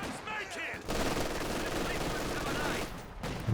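Rapid MG42 machine gun bursts in the Company of Heroes 2 strategy game, a dense sustained rattle of automatic fire layered with other battle gunfire, loud and continuous through most of the clip.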